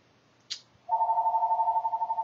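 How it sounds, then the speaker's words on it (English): A landline telephone rings with a steady trilling warble that starts after a brief click and carries on loud and alone to the end. "And now the phone's ringing."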